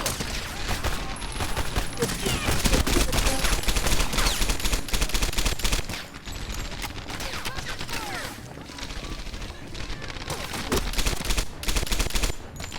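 Rapid MP40 submachine gun bursts in the World War II shooter Medal of Honor: Airborne, loud dense gunfire crackling almost continuously with brief lulls.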